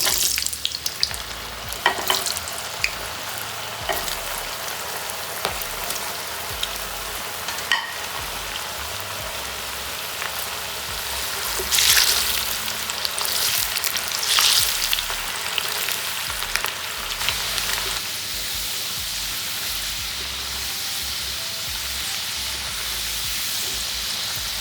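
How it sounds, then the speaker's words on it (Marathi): Potato pieces fry in hot oil in a kadai while preparing veg dum biryani, a steady close sizzle with scattered stirring clicks and a louder surge of crackling midway, no voices. "सुरुवातीला आपण आलू फ्राय करून घेऊया."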